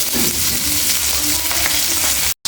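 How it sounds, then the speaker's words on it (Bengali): Hilsa fish coated with turmeric, salt and chili fry in a pan with a loud, continuous close-up sizzle and hiss that cuts out briefly near the end. "এর মধ্যে আমি মাছগুলো বেজে নেব হলুদ লবণ মরিচ দিয়ে মাছগুলো মেখে নিয়েছি এখন বেজে"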